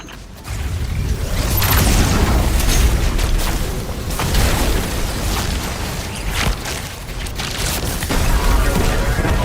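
Rocket explosions and heavy combat blasts in the video game Destiny 2: Lightfall, a dense, continuous roar of booms and whooshes with no clear breaks.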